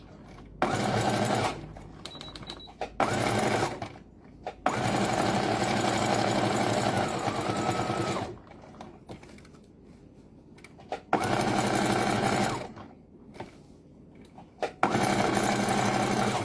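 A sewing machine stitches tricoline fabric layered over batting, running in several loud, close bursts of rapid needle clatter separated by quiet pauses, with someone speaking briefly.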